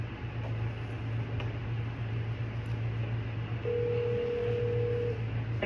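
A telephone dials a customer's number, heard as a steady low tone under faint room hiss that then gives way to a higher, cleaner tone near the end, quiet and without talk.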